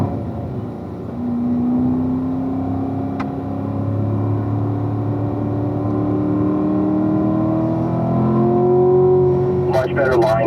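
Car accelerating on a race track, engine note climbing steadily through the gears in a continuous near whine and drone, with a voice talking over it and a short burst of other noise at the end.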